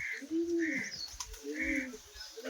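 Pigeons kept by an elderly woman in Tadav village, Vav, coo in soft, rounded phrases that repeat in a steady rhythm. The birds are close by, with faint chirps and no talking.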